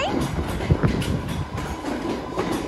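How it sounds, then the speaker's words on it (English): An old London Underground train rattles past nearby in Ryde, Isle of Wight, wheels clacking rhythmically over the rails with a steady rumbling roar. "There's a train. It's an old London Underground train."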